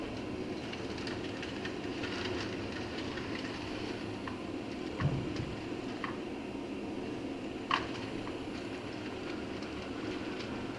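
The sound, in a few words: model train running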